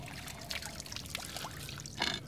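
A released pike splashing water as it swims off in stillwater, a short run of wet splashes and trickles with a louder splash near the end, close by.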